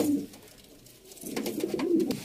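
A pair of kabra pigeons coo close by, a low rolling, throaty warble rising and falling, with a brief quieter pause before the cooing resumes more strongly.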